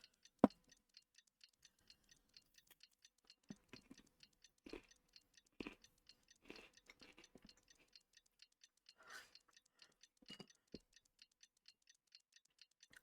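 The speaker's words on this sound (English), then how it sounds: "I'm sorry if you can hear me eating" Someone eating crunchy food, giving scattered crisp crunches and chewing bursts over a steady, faint ticking like a clock in a quiet room.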